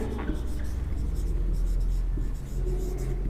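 A pen writes out a lesson answer by hand on paper, giving a steady scratching texture over a constant low rumble in the background.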